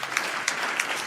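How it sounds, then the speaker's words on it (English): Applause from a conference audience honoring hotel staff at an economics plenary session, a steady dense wash of clapping filling the whole short stretch at moderate loudness. "maybe we can have a round of applause for them"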